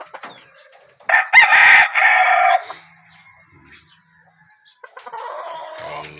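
A hybrid rooster crows loudly and close by, one long drawn-out call, followed by softer clucking and faint background noise.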